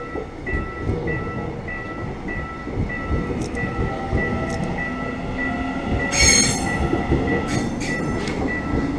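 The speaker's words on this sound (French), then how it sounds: "C'est le métro." A Seoul metro train rolls past close by, with a steady rumbling roar, rhythmic wheel clatter and high squealing wheels, no voices over it.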